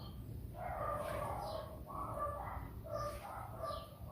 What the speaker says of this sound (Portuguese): Os passarinhos que ia participar da aula agorinha, e agora são os cachorros.